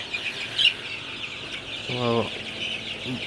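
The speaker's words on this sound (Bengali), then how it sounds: "মুরগির বাচ্চাগুলো মাসাল্লাহ মোটামুটি ভালোই আছে সবগুলা এবং সুস্থ আছে" Twenty-day-old Sonali super hybrid chicks, with a few short peeping and clucking calls over a quiet background, close by, and one brief harmonic call partway through.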